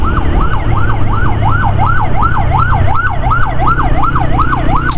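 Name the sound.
ambulance siren approaching from behind on the road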